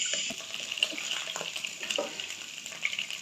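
Chopped garlic and ginger fry in about half a cup of hot oil in a pan, giving a close, steady sizzle with scattered sharper crackles and pops throughout.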